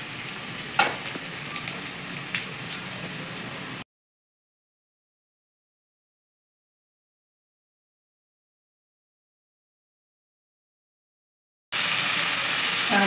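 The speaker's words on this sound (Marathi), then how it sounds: "कांदा चांगला तांबूस होऊन द्यायचा" Onions frying in oil with ginger-garlic paste and asafoetida for a soybean bhurji, a steady close sizzle with a couple of sharp crackles, then cutting out to silence before the loud sizzling returns.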